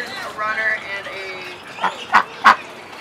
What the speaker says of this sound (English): we've got some new ducks